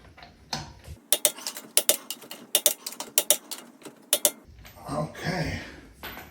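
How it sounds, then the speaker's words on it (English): A Harbor Freight lug nut torque wrench tightens wheel nuts on a winter tire wheel, making rapid sharp ratcheting clicks in close bursts with brief pauses, followed by a softer stretch of handling noise. "I do love this torque wrench that I got, a lug nut torque wrench picked up from Harbor Freight"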